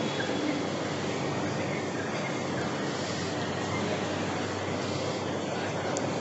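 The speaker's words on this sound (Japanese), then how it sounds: "お台場方面から ゆりかもめの列車が入ってまいります" A Yurikamome automated transit train rumbles steadily as it pulls into Shimbashi station, a broad, even mechanical hum with faint squeals, at moderate distance and no talking.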